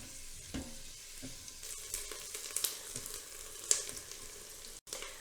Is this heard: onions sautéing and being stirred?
yes